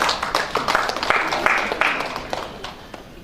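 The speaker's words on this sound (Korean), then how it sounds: "큰 박수로 맞이해 주시기 바랍니다." Audience applause at a Korean political gathering as a former Seoul city council member is welcomed to the stage, a short burst of steady clapping that swells and then thins out, with no talk over it.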